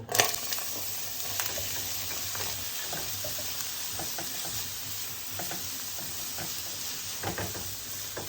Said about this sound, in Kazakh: Және жаңағы тураған жуамызды салып қуырамыз.